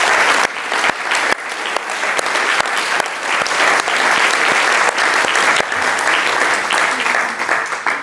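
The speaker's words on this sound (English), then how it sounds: "a big, big round of applause to Norway for recognizing the state of Palestine." A big round of applause from a panel audience at a business school event, loud and sustained with sharp individual claps standing out of the dense wash throughout.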